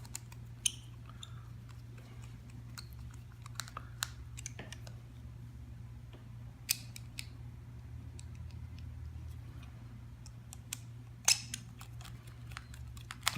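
Screws are put back by hand during a DTG WIMS motor replacement, making faint scattered clicks and small metallic taps over a low steady hum, with no talk.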